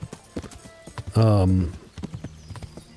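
A horse in the video game Kingdom Come: Deliverance gallops in a quick run of hoofbeats, broken by a loud whinny near the middle, with the galloping going on steadily afterward.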